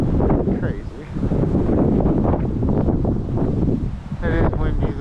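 Strong wind buffeting the microphone at a trout pond, a steady roaring rush with gusts throughout the whole stretch, loud and close.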